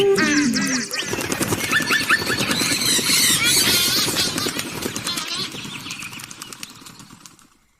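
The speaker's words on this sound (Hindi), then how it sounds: "सब आवाज चिड़िया की आवाज है।" Birds chirp and squeal loudly in a dense, busy chorus of quick overlapping calls, with some fluttering. The sound stays close and fades toward the end.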